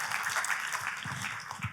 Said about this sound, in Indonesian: Tepuk tangannya sekali lagi bagi Yesus Tuhan.